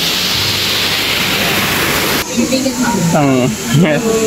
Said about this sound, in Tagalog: makikita naman dito paano yung waterfalls